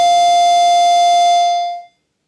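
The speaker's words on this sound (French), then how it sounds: "L'onde carrée," A 1980s analog synthesizer holds a single buzzy square-wave note, loud and steady for about one and a half seconds before it fades out quickly to silence.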